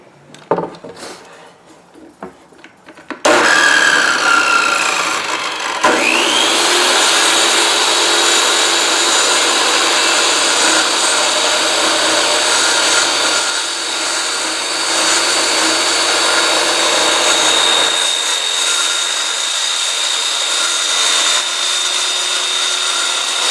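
A power saw cuts 8-foot wood boards into lengths for a bookcase build, starting with a sharp spin-up and then a long, loud, steady whine that drops slightly partway through and runs to the end.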